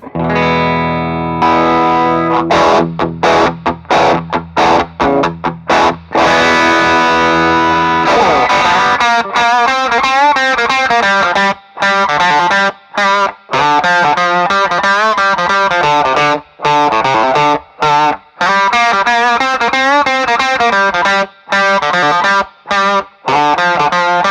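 Electric guitar played through a Beano boost pedal fitted with new old stock Mullard OC82 germanium transistors, loud and saturated: sustained chords ring first, then a fast, driven riff with short choppy gaps, alone without talk.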